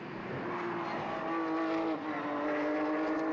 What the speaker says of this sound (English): This is Pierre-Yves Park, one of the competitors in the 997 Porsche